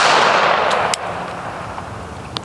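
A handgun fired at a target during a draw-and-present drill, heard as a loud, close report already fading at the start, followed by a few faint sharp clicks.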